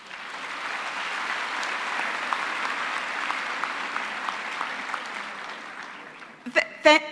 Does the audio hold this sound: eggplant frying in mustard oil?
no